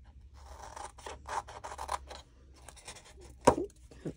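Scissors snip through cardstock while a gift box is cut out, a run of close, crisp cuts with short pauses and one sharper, louder snip near the end.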